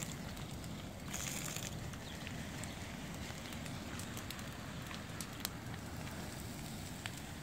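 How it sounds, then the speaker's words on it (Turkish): A fire burns steadily with a dense, continuous crackling roar that stays loud and even throughout, with no voices. "Sen ateşe tut da yavaş yansın."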